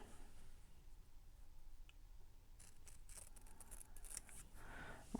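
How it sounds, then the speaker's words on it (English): Fabric scissors snip through material while quilting a baby journal, a quiet series of crisp cutting clicks arriving in quick succession after a hushed stretch, close and alone. "Fabric scissors."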